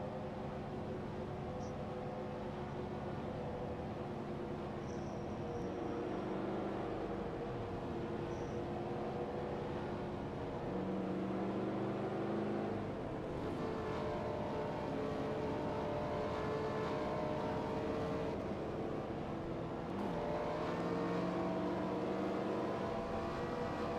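Race car engines in the V8 Thunder racing game drone steadily at high revs on the Talladega track, a continuous layered whine with pitch shifting slightly as cars hold high gear, heard alone without voices.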